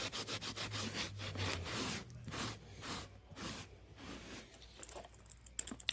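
Fingernail polish stain is scrubbed out of carpet with polish remover: steady, rhythmic back-and-forth brushing and rubbing strokes, close and fairly quiet, with a few small taps near the end.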